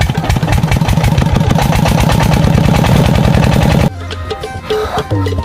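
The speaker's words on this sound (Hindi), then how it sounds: "अब छठा चक्कर आ रहा है इंजन को," A tube well diesel engine in a corn field, long idle and not yet drawing water, chugs loudly and rhythmically while cranked, then drops suddenly to quieter uneven knocking and clatter.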